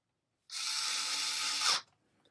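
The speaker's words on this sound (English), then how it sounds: "So here I can take these screws out" A Dovaman E009A 4V cordless screwdriver removing square-drive hinge screws: a steady, close electric motor whine that starts abruptly, holds for about a second and a quarter, rises slightly, then cuts off, with no talking.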